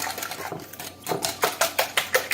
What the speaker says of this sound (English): now we're going to whisk these up. Real good.